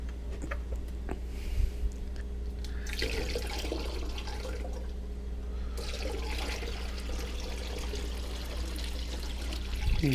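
Phytoplankton culture liquid is poured back into a container while a faucet-like trickle runs steadily throughout, with a continuous low hum underneath; no one speaks.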